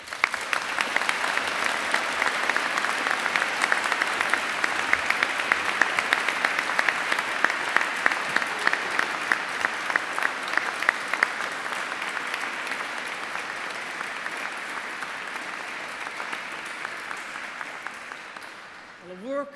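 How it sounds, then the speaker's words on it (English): A large audience applauds inside Canterbury Cathedral during a university graduation ceremony, a sustained, dense round of clapping filling the stone space for nearly twenty seconds before fading out at the end. "A round of applause for those fantastic achievements"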